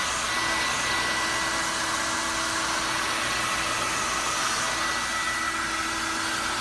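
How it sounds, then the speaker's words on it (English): A dryer blows over freshly coated EVA foam to speed drying, a loud, steady whooshing hum with no pauses. "And then I'll hit it with the dryer to accelerate it real quick."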